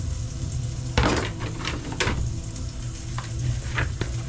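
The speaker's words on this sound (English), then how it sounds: "I'm putting my trinity plus the garlic into the bowl with the dredges of flour." Cajun trinity and garlic sizzle in a bowl coated with leftover dredging flour, a steady close frying hiss broken by knocks and scrapes of a utensil against the cookware.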